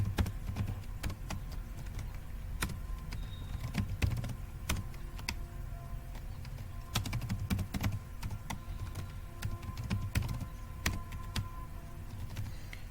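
Keys on a computer keyboard are typed while coding HTML and CSS, producing scattered sharp clicks at an uneven pace over a steady low hum, fairly close.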